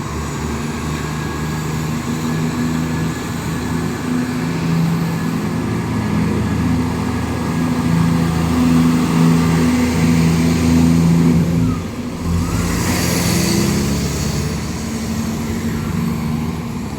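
East Midlands Railway Class 175 diesel unit pulling out of Doncaster on the service to Peterborough, a steady low engine drone with rising revs that stays fairly loud and continuous throughout, heard from the platform with no talk.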